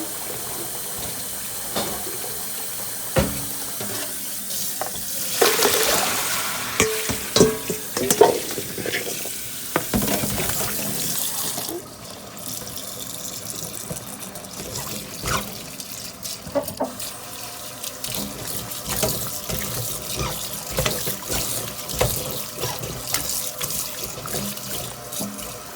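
Potatoes are rinsed and strained under a running kitchen tap, water splashing and rushing steadily with clattering and knocking of the potatoes in a strainer, close and continuous with no talk.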